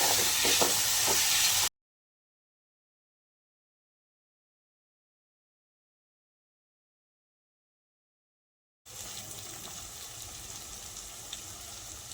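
Tomato pieces sizzling and frying in a pan over low to medium flame, a steady hiss close by, cut off by a stretch of complete silence before the sizzle resumes.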